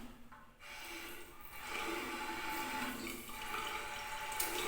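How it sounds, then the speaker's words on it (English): Warm tap water runs steadily for handwashing, a continuous broadband rush that swells slightly after the first second and holds at an even level. "first we will need to turn on the water and be sure to adjust the flow of the water"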